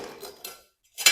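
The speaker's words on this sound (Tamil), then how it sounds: "எப்பவுமே சின்ன பீஸ் உடைக்கும் போது அதை கட் பண்ணிட்டு இப்படி உடைக்கணும்" A small piece of ceramic tile is snapped by hand after scoring, producing a short, hard crack followed by a sharper break after a brief pause, close and alone.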